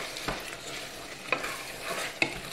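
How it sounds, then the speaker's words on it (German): Celery frying with salt, cumin and chili powder in a pot is stirred, a steady close sizzle broken by a few scraping strokes of the spoon. "Und auch rühren."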